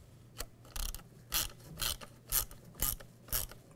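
A ratchet clicks in about seven short, evenly spaced bursts, close and fairly quiet, as it snugs down bolts on a 2007-2013 Chevy Silverado 1500 tailgate set in plastic.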